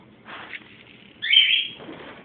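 Birds chirping outdoors: a few bright, high tweets, with one louder burst of chirps in the middle, fairly close against a quiet background.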